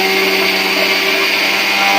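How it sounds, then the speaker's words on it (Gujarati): A kitchen mixer grinder whirs loudly and steadily as it grinds sugar into powder, a close, continuous high-pitched motor drone with no talking over it. "ખાંડ છે ને લાડવામાં નાખવાની હોય, એટલે આપણે એને પીસવી પડશે."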